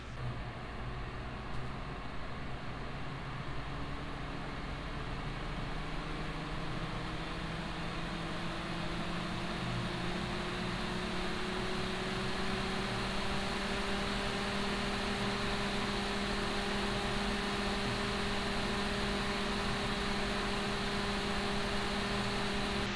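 A PCCooler RZ820 CPU cooler's fan spins up under Cinebench load, a steady broadband hiss with faint tones that rise gradually in pitch over about twenty seconds, no harsh whine, no voices.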